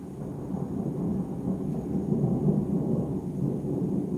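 Deep, continuous rumbling thunder from a Florida lightning storm rolls on steadily, loud and low, with faint rain beneath and no voices.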